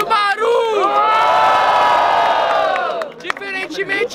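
A crowd at a student rap battle in Brazil cheers, whoops and shouts loudly for about three seconds, the roar swelling and then fading into scattered voices and talk.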